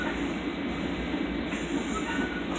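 A Long Island Rail Road train rolls past another train, a steady low rumble and rushing rail noise heard from on board, constant and fairly loud with no speech.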